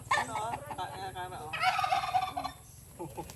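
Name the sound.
turkey gobbling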